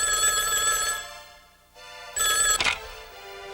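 A telephone bell rings loudly in two bursts with a short pause between, a bright electronic trilling ring heard close and alone, from a 1990 children's safety program.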